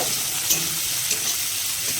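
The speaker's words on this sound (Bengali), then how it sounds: "এবার পেঁয়াজটাকে হালকাভাবে ভেজে নিব" Two medium chopped onions lightly frying in a pan with whole cumin seeds for an egg and pointed gourd curry, a steady close sizzle with a couple of faint stirring clicks and no talking.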